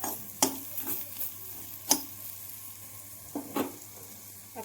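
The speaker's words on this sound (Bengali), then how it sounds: "আমি এটাকে নাড়াচ্ছি। আমার আগেই করলাটা ভাজা ভাজা হয়ে গেছিল।" Fried bitter gourd being stirred in a pan: a quiet background sizzle broken by several sharp scraping clinks of the spatula against the pan, spaced irregularly, with no talking.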